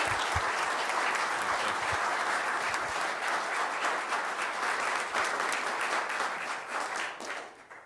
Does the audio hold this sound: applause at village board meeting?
yes